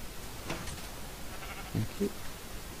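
Minecraft sheep bleat twice in quick succession in a farm pen, short and moderately loud against a faint background hiss.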